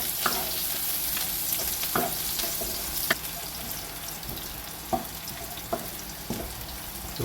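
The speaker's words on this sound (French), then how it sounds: "ผัดกระเทียมให้หอมก่อนนะคะ" Garlic stir-frying in oil in a pan for shrimp fried rice, a steady close sizzle broken by sharp scrapes and clacks of the spatula at irregular intervals.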